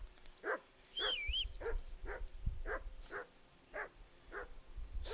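In Kingdom Come: Deliverance II, a dog barks insistently, about eight evenly spaced barks, close and clear, with no voices over it.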